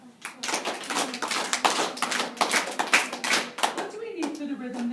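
Children clap out a song rhythm in a classroom, a run of short, fairly even claps close by, with a teacher's voice sounding over them and briefly alone near the end.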